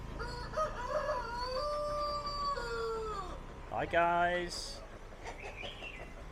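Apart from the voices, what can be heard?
chickens and ducks at market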